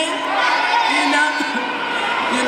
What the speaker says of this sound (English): And y'all can clap it up for that